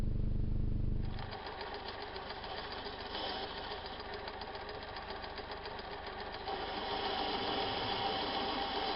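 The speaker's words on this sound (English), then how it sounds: "I'm going to machine this down right here for about maybe a half an inch" Metal lathe turning down an endmill holder, a steady mechanical whir and cutting chatter that drops in pitch after the first second and then runs evenly, growing slightly louder near the end.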